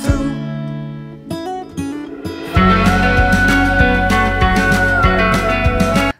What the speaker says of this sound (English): just a nice organic cymbal swell where we use mallets to swell the cymbal up